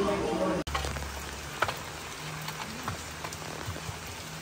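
Heavy rain falls on a trip to Elyu and Baguio, a steady hiss with scattered drops close by. A sharp break comes early, and faint low tones run beneath the rain.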